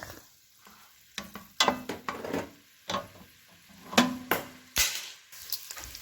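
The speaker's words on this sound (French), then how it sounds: "une fois que le beurre est fondu, on prend de 50 g de lardons, ok, on va faire revenir" Lardons sizzle in melted butter in a pan, a quiet steady fry broken by a string of sharp scraping and stirring clatters from a utensil against the pan.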